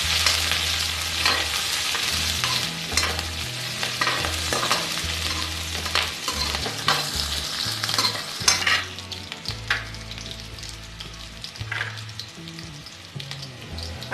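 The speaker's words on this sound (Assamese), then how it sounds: "অলপ সময় পিঁয়াজখিনি ৰঙচুৱা হোৱালৈকে মই ভাজি ল'ম।" Onions frying in a pan with dried red chillies, green chillies and bay leaf, stirred with a spatula so that repeated scraping strokes sound over a continuous close sizzle, with no speech.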